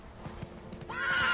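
Roach, the horse in The Witcher 3, with rhythmic hoofbeats clip-clopping near at hand, then a bright whinny rising over the last half second. No voices.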